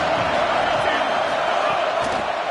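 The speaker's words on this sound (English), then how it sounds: "This crowd ready to make its presence known." A football stadium crowd at a Virginia Tech vs Stanford game roars in a steady, loud, dense wash of cheering that holds throughout without a break.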